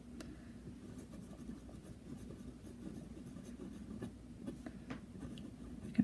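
A hard medium fine 21 karat gold fountain pen nib scratches across paper with a slightly toothy feel, a soft continuous scritching of strokes close by over a quiet low hum.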